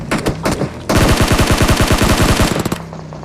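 Loud automatic gunfire from a PUBG battle royale match, a brief burst followed by a long, rapid, evenly spaced volley of close shots lasting about two seconds, ending in a few scattered rounds.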